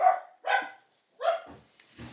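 Several dogs bark indoors at a busy home, three sharp bursts spaced out over a couple of seconds, fairly close and loud, with no talk over them.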